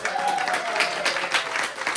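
Short burst of crowd applause at a parlor magic show, fairly dense, uneven clapping with faint voices and a thin tone underneath.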